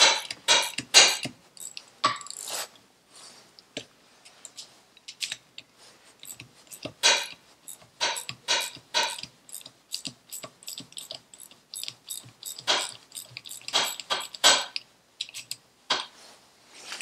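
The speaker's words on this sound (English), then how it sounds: "So next up is our gear change return spring, which you just undo." Motorcycle gear change return spring and nut being undone, a run of sharp metallic clicks and ratcheting taps close by in quiet surroundings.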